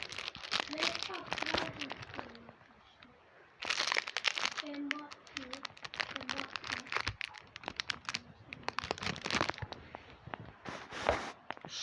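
Packs of Turkish football trading cards being torn open and unwrapped, with crinkling foil and paper rustles in bursts, while a person talks throughout.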